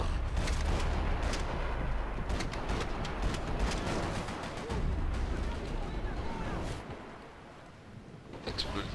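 Loud, dense rumbling blasts and crackling explosions in Max Payne 3 fill the clip, continuous and heavy, with a person talking over the din.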